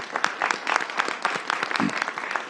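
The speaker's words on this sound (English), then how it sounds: "Let's give her a round of applause." Audience at a DC mayoral event applauding a council member, the chair of Labor and Workforce; dense scattered clapping from a crowd, moderately loud and sustained throughout, with no voices on top.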